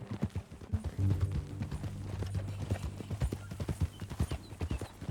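Steady clip-clop of horse hooves trotting in the Red Dead Redemption 2 video game, a continuous rhythmic beat close by, with a brief whinny and low background sounds.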